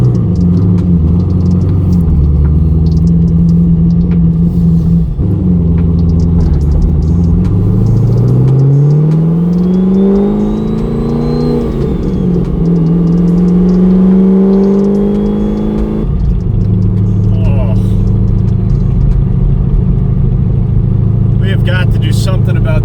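A twin-turbo Corvette C6 Z06 drones steadily while driving, a loud, continuous low engine hum with a gradual rise and fall in pitch partway through, close and dominant throughout.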